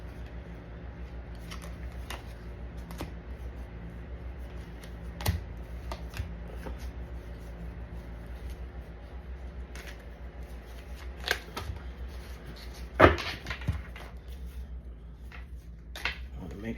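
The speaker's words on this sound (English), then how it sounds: "Make sure this deck is shuffled" A deck of cards is shuffled by hand in a quiet room, with soft riffling and tapping clicks spread over many seconds and a sharper burst of riffle near the end, no talking.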